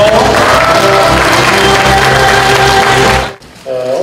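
Audience at a party founding convention applauding to welcome a speaker onto the stage: dense, loud clapping from a large crowd, cutting off abruptly near the end.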